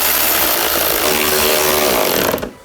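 A power tool snugs headlight bolts on a BMW E90, a loud steady motorized whir running for about two and a half seconds before cutting off abruptly at the end.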